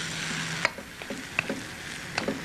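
Bamboo shoots stir-frying in a hot wok with meat: a steady sizzle broken by a few sharp scraping and clattering stirs, close and moderately loud, with no talking.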